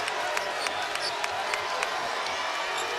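Home basketball crowd at a Louisville Cardinals game against Kentucky, a steady arena roar with scattered claps and cheers, moderately loud and continuous.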